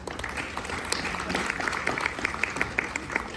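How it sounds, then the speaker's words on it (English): Attendees at a Bronx community board general meeting give a round of applause, a fairly faint, steady patter of many hands with a few sharper claps standing out toward the end. "So round of applause for you guys"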